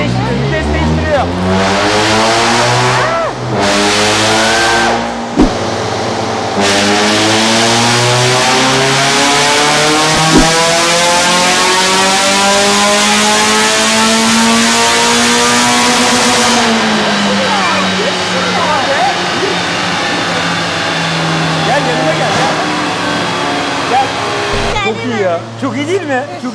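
Peugeot 106 GTI engine on a dyno run, revving hard and continuously with loud rising and falling pitch sweeps. A brief lift-off is followed by a renewed climb, with people talking faintly underneath.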